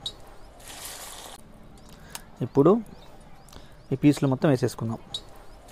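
Boiled egg pieces drop into hot oil for a South Indian egg pickle, giving bursts of sizzling and crackling frying, with someone speaking between the spatters.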